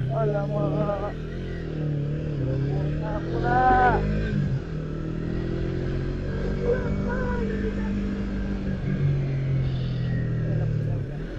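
A Yamaha New MT-25 motorcycle is ridden on a winding mountain road, its engine droning steadily with shifting pitch, briefly revving higher, while someone talks over it.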